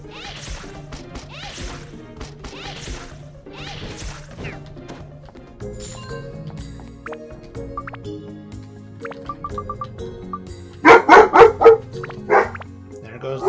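A dog in the video game Dark Cloud barks in a quick burst of sharp, loud yelps near the end, following game music and assorted hits and effects.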